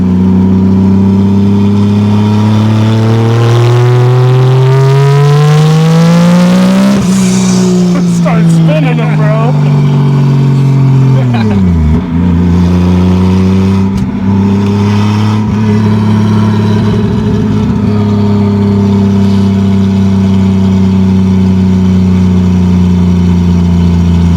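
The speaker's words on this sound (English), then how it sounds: "I don't really want to rev it out that much, but you can feel the boost" A 1987 Toyota Supra with a naturally aspirated-turned-turbo 2JZ-GE swap revs loudly and close, climbing, then dropping back with a sharp dip before settling into a steady high idle, with some talk mixed in.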